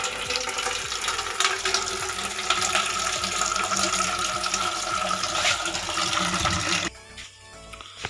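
Clean water poured or running steadily into a container before boiling, a continuous close splashing rush that cuts off abruptly near the end.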